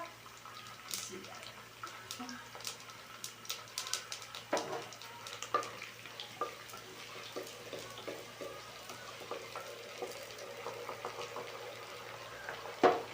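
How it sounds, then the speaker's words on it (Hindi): Whole garam masala spices crackle and sizzle in a hot cooking pot, a steady close fizz with scattered pops and small stirring scrapes throughout, no talking. "इसके अंदर मैं ये डालने लगी हूँ ये साबुत गरम मसाला"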